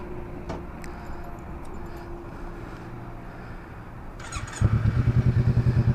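Kawasaki Ninja 300 ABS motorcycle, a 2014 model, rumbling with steady wind noise for several seconds, then the engine note rises into a louder pulsing drone near the end as the ride gets under way.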